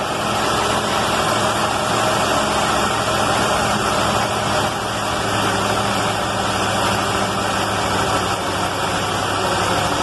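A 1956 Chevy engine with a rebuilt Holley carburetor idles high and steady, a loud, close, continuous rumble with an even drone throughout and no speech.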